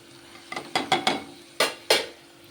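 Spiced tomato, onion and raw prawn curry stirred in a pan, a spoon scraping in several short distinct strokes spaced across a couple of seconds, with a faint sizzle underneath.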